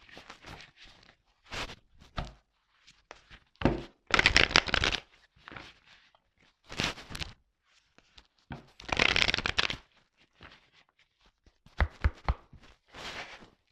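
A deck of cards shuffled during a card reading, close up: repeated riffling, flicking bursts of varying length separated by short quiet gaps, with no talking.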